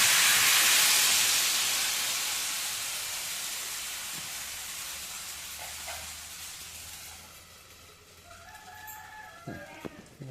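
Batter for Konkan-style seven-cut ghavane hits a hot pan with a loud, bright sizzle that slowly fades to a steady hiss, while a rooster crows faintly in the background near the end.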